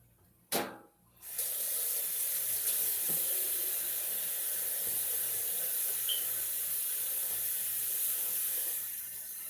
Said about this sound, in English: Just rinse it right off.